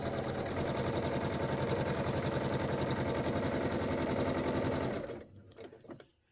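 A sewing machine stitching dress fabric for a Vogue 9292 dress back, a steady rapid mechanical whir running for about five seconds before stopping abruptly, followed by a few faint handling clicks.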